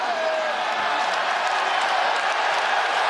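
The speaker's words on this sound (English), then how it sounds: "Hughes imploring the crowd for a little bit of energy, a little noise. A sold-out Coca-Cola Arena, happy to oblige." A packed crowd at a sold-out fight in the Coca-Cola Arena cheers and applauds, a dense, steady roar that stays loud from start to finish.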